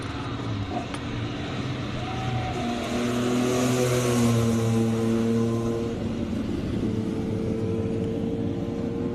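Air-cooled Porsche 911 G-series at a classic car hill climb in Cape Town, its engine note rising and revving steadily near the listener, with faint voices underneath.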